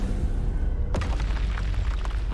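Confringo explosion spell from Hogwarts Legacy, a single booming burst with a rumbling tail over steady background game sound.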